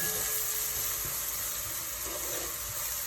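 Rice and chicken being stirred with spices, cinnamon, Vegeta and black pepper, in a hot pan, giving a steady close sizzle and hiss with faint scraping and no voices.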